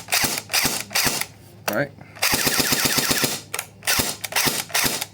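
An AGM MP40 airsoft submachine gun fires in several rapid mechanical bursts, a sharp close rattle broken by pauses, with a short spoken word in between.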